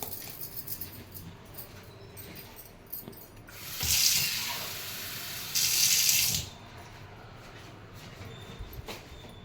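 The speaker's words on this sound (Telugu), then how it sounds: "ఇది దీంట్లో మనం కొంచెం వాటర్ యాడ్ చేసుకోవచ్చు" A little water is added to soaked split black gram batter for dibba rotti: two short, close splashy pours, each lasting about a second, over a quiet kitchen background with no talking.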